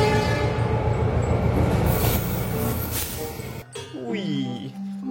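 A CC206 model locomotive running on a toy track gives a loud, close rumbling rattle for several seconds before cutting off. A voice then speaks over faint residual noise.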